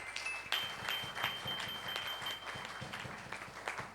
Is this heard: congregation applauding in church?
yes